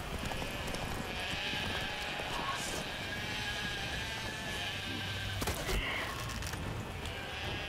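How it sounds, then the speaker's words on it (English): Sheep in the video game Witcher 3 bleat faintly under a constant layer of ambient game sound, with a few soft clip-clop steps. "Sheep."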